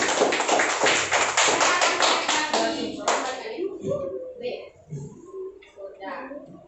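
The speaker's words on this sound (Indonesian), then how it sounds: "tepuk tangan dulu buat Akan yang mau membacakan" A classroom of students claps for a classmate about to read aloud, a burst of quick claps lasting about three seconds before a teacher's voice takes over.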